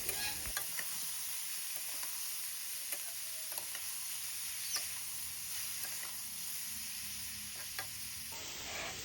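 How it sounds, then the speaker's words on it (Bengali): Mung dal fries in a pan with ash gourd, producing a soft, steady sizzle with occasional scraping taps of a spatula stirring, quiet and close, with no talk. "ডালটা ভাজা হয়ে গেলে তারপর চাল কুমড়োগুলো দিয়ে দেব। দিয়ে ভালো করে নেড়েচেড়ে নেব।"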